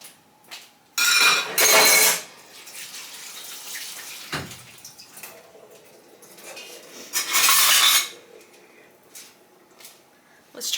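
Metal kitchen utensils clatter and clank in short bursts as a potato masher is swapped out in a home kitchen, with quieter rustling and handling noises between the louder rattles.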